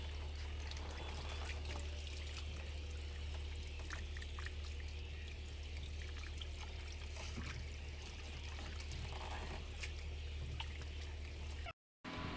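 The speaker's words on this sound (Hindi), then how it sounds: "पैर धो मेरे" Water poured over feet to wash them outdoors, running as a continuous trickling splash under a low steady hum, with faint voices in the background.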